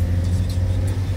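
A car crawls along an empty forest road in first gear, its engine a steady, low rumbling drone that stays close and constant, with no talk over it.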